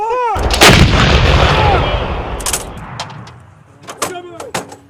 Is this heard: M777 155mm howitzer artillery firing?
yes